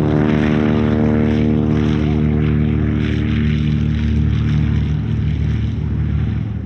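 A vintage propeller warbird flies at an airshow, its engine a loud, steady, droning roar that holds throughout without a break.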